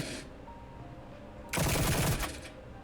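A weapon in a Lucid9 fangame battle fires a rapid burst lasting about a second, loud and rattling against a quiet hum, preceded by a brief hiss at the start.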